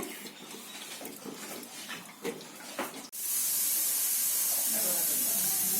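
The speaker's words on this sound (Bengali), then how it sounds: "এটাকে কিছুক্ষণ ছেড়ে দিব জলটা ড্রেন হওয়ার জন্য।" Soaked almonds for halwa are left to drain. A voice talks briefly, then a sudden, steady rushing hiss of water starts and runs on evenly.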